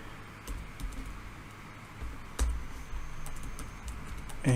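Typing on a computer keyboard to enter a warning banner message on a router or switch, with soft scattered keystrokes in short bursts over a faint background hum.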